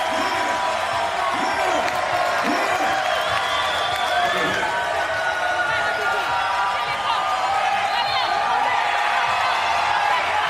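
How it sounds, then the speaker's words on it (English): A sold-out arena crowd at the 2019 FIBA 3x3 World Cup finals in Amsterdam roars continuously for ten seconds, a loud, dense wash of cheering and shouting with voices mixed in throughout. "This sold-out crowd getting loud."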